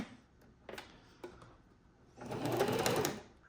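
A sewing machine stitches the bottom seam of a paper pocket for a traveler's notebook, with a few soft clicks of handling first, then a short, fast burst of rattling stitches up close.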